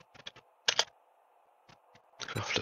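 Computer keyboard typing in short irregular bursts of crisp key clicks, a quick cluster, a louder pair, a lone tap, then a rapid flurry at the end, over a soft steady hum.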